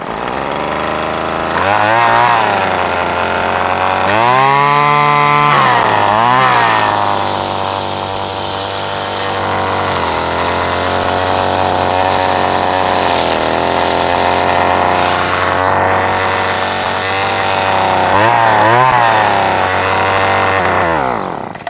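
A small Homelite two-stroke string trimmer engine fires up and runs steadily, its loud buzzing drone rising in short revving surges at the start and again near the end, continuous throughout with no talk.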